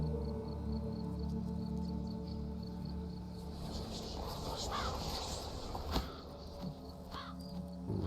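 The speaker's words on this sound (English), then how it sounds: "he has a way of communicating with the crows" Crows caw over a dim ambient bed in a cemetery in the video game The Witcher 3: Blood and Wine, with a few sharper calls standing out near the middle of the scene.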